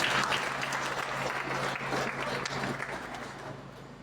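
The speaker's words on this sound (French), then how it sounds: "On applaudit encore une fois la sœur Marie-Joseph" A Pentecostal church congregation at an anniversary celebration applauds steadily, a dense wash of many hands clapping at an even level throughout, with a faint low hum underneath.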